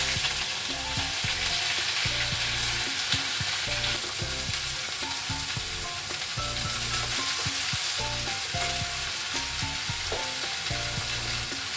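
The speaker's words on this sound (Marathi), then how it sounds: "तेल गरम झालंय. आता यात फक्त जिरं घातलंय." Cumin seeds crackle and sizzle continuously in hot oil, close and fairly loud. A droning, tonal hum runs underneath, and there is no talking.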